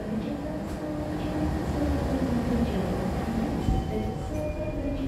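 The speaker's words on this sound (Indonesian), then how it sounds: "Udah mau berangkat lagi nih kereta api Argowilis ya" Argowilis passenger train pulling out of Kertosono station, a steady low rumble of wheels and engine with faint metallic clinks and squeals, continuous and fairly close throughout.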